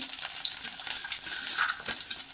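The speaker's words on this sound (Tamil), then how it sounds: "கடுகு உளுந்தம்பருப்பு பொரியட்டும்." Steady, crackly sizzle of mustard seeds and urad dal frying in hot oil for coconut rice, with small pops scattered throughout, close up and with no talking.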